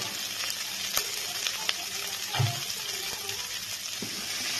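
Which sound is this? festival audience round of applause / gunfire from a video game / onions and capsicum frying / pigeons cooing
onions and capsicum frying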